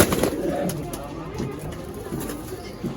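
Giribaz pigeons in a loft coo throughout, their low calls mixing with nearby voices of people talking.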